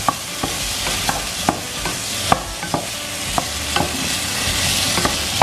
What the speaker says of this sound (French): Je vais un petit peu mélanger.